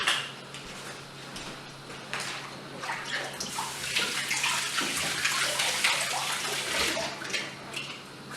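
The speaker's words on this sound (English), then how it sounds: "rinse them under water and under hot soapy water and rinse them" Water runs steadily from a tap while glass canning jars for jam clink and knock against each other and the sink as they are rinsed nearby.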